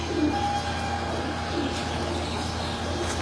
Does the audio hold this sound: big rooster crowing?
no